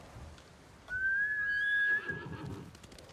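A single horse whinny in Ghost of Tsushima rings out, a high, drawn-out neigh that drops off into a snort, heard clearly over faint background sounds.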